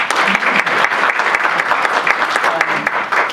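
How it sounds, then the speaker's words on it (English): Lively applause from an audience at a Team Jamaica Bickle event in Philadelphia, a close, busy patter of many hands that stays strong and even for several seconds. "Give her a round of applause."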